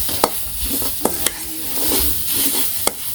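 Food fries loudly in a pan, a dense close sizzle broken by a few sharp clicks of a spatula stirring, with no voices.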